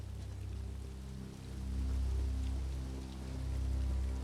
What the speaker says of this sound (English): Let's get in out of the rain, shall we?